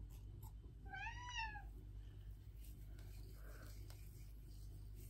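A cat meows once, a clear, rising and falling indoor cry wanting to go out. It is fairly close, followed by quiet room hum and small rustles.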